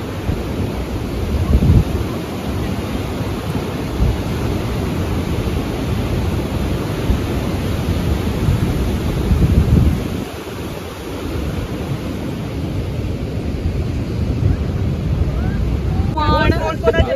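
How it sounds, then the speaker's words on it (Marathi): Sea waves crash at Harnai on the Konkan coast in heavy rain, a loud, constant roar of surf mixed with gusty wind buffeting the microphone. "एकदा ना समुद्राचा आवाज आहे का."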